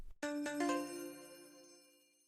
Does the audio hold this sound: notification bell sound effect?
yes